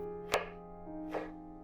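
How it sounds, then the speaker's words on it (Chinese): A knife dices a small red chili on a cutting board, giving two separate sharp chops about a second apart, fairly close and clean with no talk. "再切成丁"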